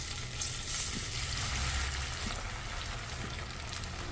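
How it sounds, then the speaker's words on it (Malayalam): Masala-coated ivy gourd frying in coconut oil, giving a soft, continuous hiss and bubbling sizzle with no stirring, faint and steady throughout. "മസാല പുരട്ടിയിട്ടുള്ള കോവയ്ക്ക എണ്ണയിലേക്ക് ഇട്ട് കൊടുത്ത് ഫ്രൈ ചെയ്തെടുക്കാം"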